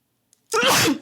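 A single sharp sneeze bursts out after a brief quiet moment, loud and close.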